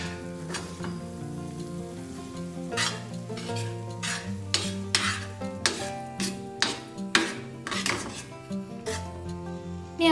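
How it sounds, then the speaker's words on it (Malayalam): Ground paste of tomato, brinjal and garlic stirred into sautéed onions in a pan, a steady sizzle under repeated close scraping and clinking stirs, with a few louder knocks of the utensil against the pot. "എന്നിട്ട് അത് നമ്മളിപ്പം വഴറ്റിയ സവോളയിലേക്ക് ചേർത്ത് കൊടുക്കണം."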